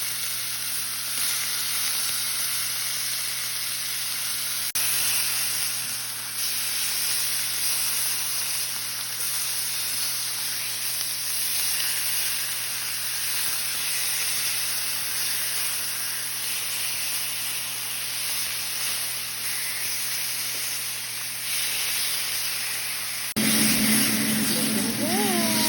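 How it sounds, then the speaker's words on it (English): Thin slices of beef sear in a smoking-hot cast iron pan, giving off a loud, steady sizzle and hiss that holds for the whole stretch, with a brief burst of scraping near the end. "Let's get in our beef. I'm gonna do a few pieces at a time so you can get a good sear on them."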